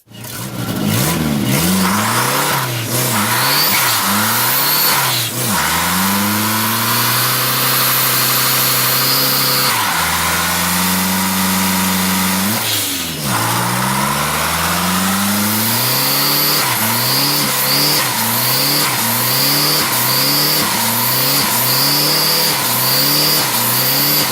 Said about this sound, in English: Here's a turboed Ford Ranger.